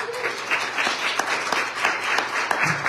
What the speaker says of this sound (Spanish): pido un aplauso también para Michelle.